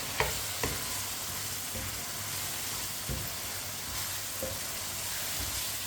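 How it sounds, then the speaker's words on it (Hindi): Large cut potato pieces fry in a pan with a steady sizzle, while a spoon stirs them, producing several distinct knocks and scrapes at irregular intervals. "चम्मच चलाते हुए आलूओं को भून लेंगे"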